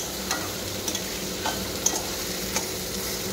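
Chopped onion and garlic sizzle steadily in a hot pan, with a few light scrapes and taps of a stirring utensil scattered through the hiss.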